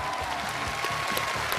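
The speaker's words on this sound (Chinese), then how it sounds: "我觉得现在可以开始每张都有掌声了" Studio audience applause on a Chinese TV challenge show, where a memory contestant recalls a deck of playing cards; steady clapping fills the whole short stretch at a moderate level.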